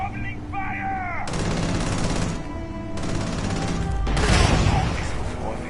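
Gunfire in the video game Starfield: loud, sustained bursts of automatic fire in two long stretches with a short gap, ending in a heavier blast and a rumbling crash, close and dense over faint game ambience.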